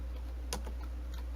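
A few quick keystrokes on a computer keyboard while entering a CAD command, soft isolated taps over a low steady hum.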